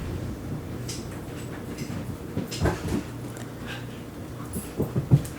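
A puppy whimpers and pants close by in a few brief bursts over a steady low background hum, with no talk.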